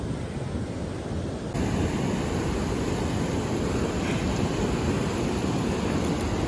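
Ocean waves breaking on a beach make a steady, close surf roar that swells noticeably louder after the first moment and then holds as a continuous wash.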